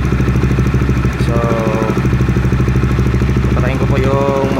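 A Honda RS150 motorcycle engine idles steadily up close with an even, slightly clattery rhythm, while a person talks over it.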